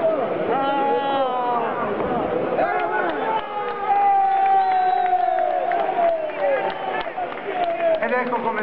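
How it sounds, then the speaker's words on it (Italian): A crowd at an Italian lightweight title boxing match applauds and cheers continuously, with shouting voices rising out of the noise. "Un bel applauso per ambedue i pugili per aver onorato il titolo"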